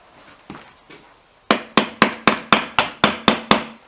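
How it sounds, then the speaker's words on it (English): A small rubber hammer strikes part of a BSA/Royal Enfield-style 350 trials motorcycle: two softer taps, then a steady run of nine sharp, evenly spaced blows, close and loud with no talking. "Now then, where's my little rubber hammer?"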